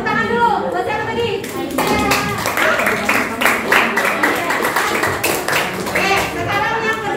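A class of school students claps hands together in a lively, fairly loud burst of rapid, uneven claps, with children's voices chattering underneath throughout.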